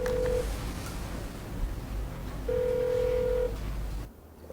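A telephone rings in a film scene, two electronic ring bursts, the second longer, heard over a low background hum before it cuts off.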